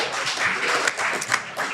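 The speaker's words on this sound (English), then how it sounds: "Round of applause for Justin" A live audience at a fashion showcase panel applauds a guest being introduced, a brief, dense burst of close clapping with no talking over it.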